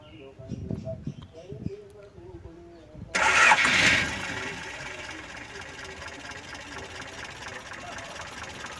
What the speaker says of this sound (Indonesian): Kita nyalakan dulu mesinnya